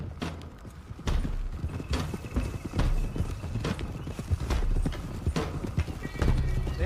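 Horses galloping in Red Dead Redemption 2, a loud rapid clatter of hooves rolling on continuously with creaking tack and an occasional whinny, close and energetic.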